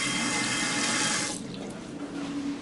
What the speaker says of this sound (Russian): Так, вода есть.